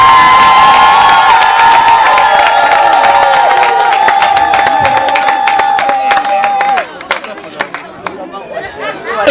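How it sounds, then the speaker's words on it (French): Wedding guests at a customary marriage ceremony cheer and applaud together, a loud, dense crowd din of clapping, shouts and chatter with a sustained tone running underneath, thinning to scattered claps and voices near the end. "je demande à tous de se lever sur vos applaudissements"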